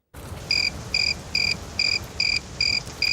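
Crickets chirp in a steady, regular rhythm, about seven evenly spaced bursts of high, bright trilling over a soft background hiss.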